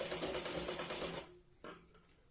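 Sewing machine stitching a katori blouse, a fast close mechanical whirr of running stitches that stops partway, followed by faint handling sounds.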